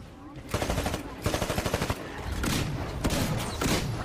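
Rapid bursts of gunfire in the Titanfall campaign, loud and close, coming in repeated volleys with brief gaps over a busy game soundscape.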